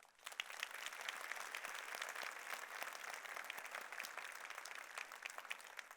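A large audience at a university address bursts into sustained applause, a dense, steady wash of many hands clapping that holds at an even level for several seconds with no talking.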